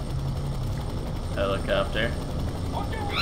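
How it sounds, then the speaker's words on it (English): A helicopter in the video game FEAR 3 gives a steady engine drone and blade chop under a voice, which rises over it partway through. "Helicopter."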